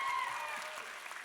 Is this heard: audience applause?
yes